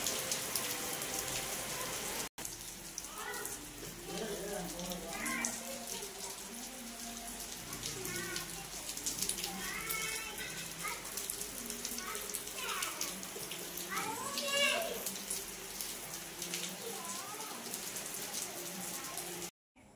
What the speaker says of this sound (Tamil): மழை ஒரு பக்கம் பெஞ்சிட்டே இருந்தது